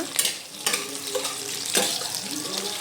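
Onions for chicken palav fry in a pan, a moderate sizzle with a few sharp scraping stirs, with some background noise.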